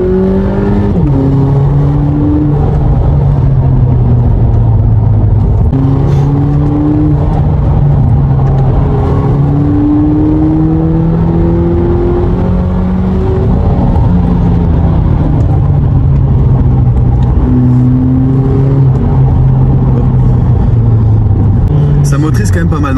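A stock 200 hp Volkswagen Polo GTI accelerates while someone talks over the steady, loud rumble of the engine inside the car, and the pitch climbs and falls as it shifts gears.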